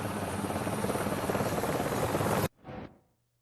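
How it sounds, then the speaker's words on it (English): A loud, steady video game helicopter rotor drone fills most of the clip, then cuts off abruptly, followed by a brief swelling whoosh that fades to quiet, in Wolfenstein: The New Order. "We hear a helicopter flying at the island."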